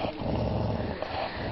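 A dog makes a continuous low rumbling purr-like growl, close and steady throughout with no voices over it.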